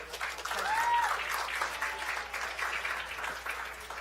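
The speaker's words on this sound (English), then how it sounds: "So let's give them a round of applause." Audience at a policy summit lunch plenary applauding a panel, a moderate, continuous clapping from a medium-sized room that swells and then eases off.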